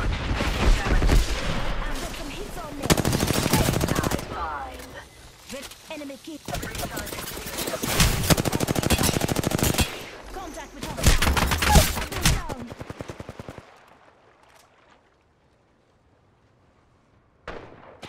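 Loud bursts of rapid automatic gunfire in a video game, coming in long dense volleys broken by short pauses, then fading to near silence at the end.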